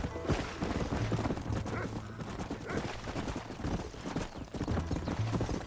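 Horse hooves clip-clopping at a steady riding pace in the western video game Red Dead Redemption, continuous and fairly close, with faint creaking of tack and brief musical tones under the hoofbeats.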